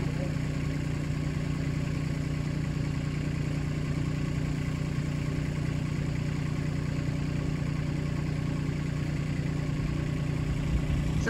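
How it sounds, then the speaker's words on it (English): A tractor engine runs nearby at a steady idle, a constant low droning rumble with no changes in pitch throughout, heard on its own. "So excuse the noise, we have the tractor over here and it's on"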